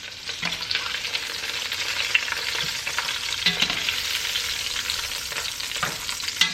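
Short ribs sear fat side down in a hot pan for braising, giving a steady loud sizzle and crackle with occasional sharp pops and spatters, close and alone without talk.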